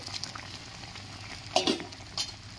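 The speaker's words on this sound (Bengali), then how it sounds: "ভেজে রাখা মোরলা মাছ দিয়ে দিচ্ছি" Fried mourola fish goes into simmering sour mango sauce and is stirred, a soft steady bubbling sizzle with a few close clinks and scrapes of a utensil against the pan, no talking.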